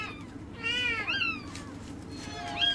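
A cat meows several times, rising and falling cries over a quiet background, with a final short meow at the end.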